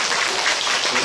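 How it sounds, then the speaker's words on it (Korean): Dense, loud audience applause, a steady wash of many hands clapping together with no gaps through the short burst. "그럼 저희 박수."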